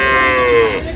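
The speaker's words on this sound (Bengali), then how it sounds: "গাভী বাছুর আমরা দেখছিলাম এখানে।" A cow at a village cattle market where cows and calves are sold lets out one loud, close moo with a rising then falling tone lasting about a second.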